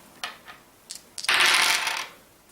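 A few light clicks as dice are picked up, then a bright clattering rattle of two or three plastic dice tumbling across a table during a game of Dark Horse, close and fairly quiet before fading out.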